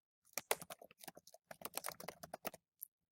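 Quick bursts of keystrokes on a computer keyboard as a nickname is typed in, close and crisp, with short pauses between clusters of taps and no talking.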